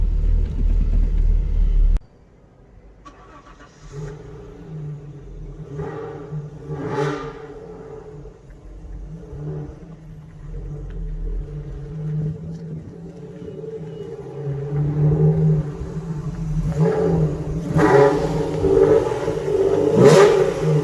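An Alfa Romeo GTV engine, brought back to life after sitting for 18 years, idles with a low rumble and then revs several times, the rises growing louder toward the end.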